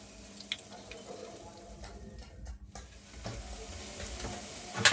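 Spinach pakoras frying in hot oil at home, a low steady sizzle with scattered soft clicks and a brief utensil clatter near the end, close by with no talking.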